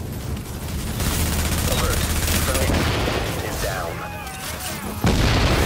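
Gunfire in the shooter game Tom Clancy's The Division: dense bursts of shots and booms in a continuous barrage, with a louder blast near the end, while players talk over it.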